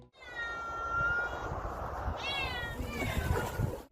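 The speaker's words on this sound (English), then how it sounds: "Cats have this propensity to get in trouble and then ask for help." A cat meows close by in two drawn-out, wavering cries, the second breaking into a rougher caterwaul, over light background rustle.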